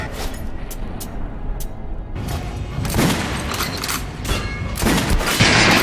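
Gunfire from the Metro: Last Light video game, aimed at an armored enemy: loud bursts of rapid shots in several clusters, with booming impacts and a muffled mechanical background between volleys.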